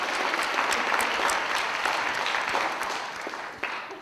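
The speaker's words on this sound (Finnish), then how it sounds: "Annetaan aplodit tässä kohtaa." An audience at a comedy roast breaks into warm applause, a broad steady wash of clapping that thins and fades toward the end.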